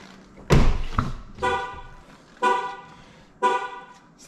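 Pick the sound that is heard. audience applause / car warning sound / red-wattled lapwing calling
car warning sound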